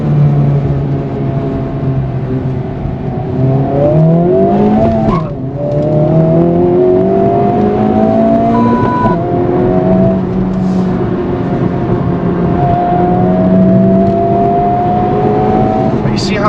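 A 2023 Honda Civic Type R FL5 accelerates hard, its engine note climbing and dropping sharply through repeated gear shifts, loud and continuous from inside the cabin, with people talking over it.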